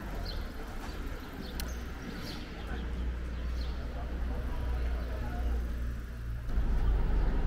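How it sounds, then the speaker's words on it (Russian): A bus pulls up at a stop in Mallorca, near Port de Pollença on the route to Formentor beach. A low engine rumble builds and grows louder near the end, under street noise and a voice talking. "Так, вот автобус, который едет нам из Форментор и на пляж Форментор."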